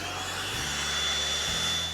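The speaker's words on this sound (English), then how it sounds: "Then vacuum it up." A vacuum cleaner runs steadily over carpet, a continuous close motor whine and airflow roar with a brief dip in pitch as the machine shifts, no talking.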